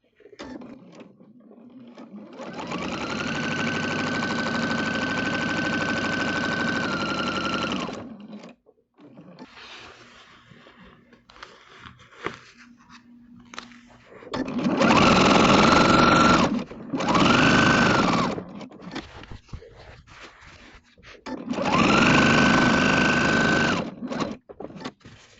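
A sewing machine stitching a potato chip block quilt runs in several long, steady whirring bursts separated by quiet pauses and small handling noises.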